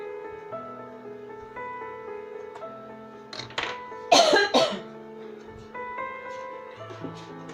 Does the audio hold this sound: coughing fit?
yes